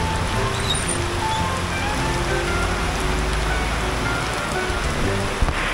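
Steady rain falling on a surface, a continuous dense patter with no talking, close and fairly loud throughout.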